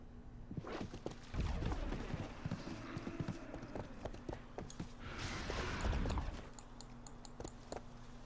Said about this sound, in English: My flaming horse can swim.